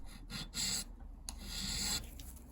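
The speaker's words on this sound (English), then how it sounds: "I'm just going to now tidy that up with a file and then slowly take the remaining part of the rack arm down with a file" A hand file works a clock's rack arm in short repeated rasping strokes with small gaps between them, close-up and fairly quiet, with no voices.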